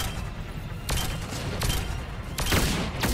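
Gunfire in the video game Mass Effect 3: sharp shots crack over constant loud combat noise, with about three distinct bursts spaced roughly a second apart.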